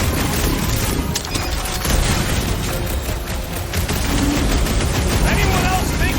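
Rapid video game gunfire is aimed at a big robot in loud, continuous bursts and booms, with voices talking over the shooting.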